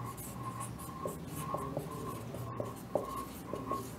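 A teacher writes on a board during a physics lecture on electric charges and fields, making short scratchy strokes and taps in uneven bursts, close and fairly faint, with no speech.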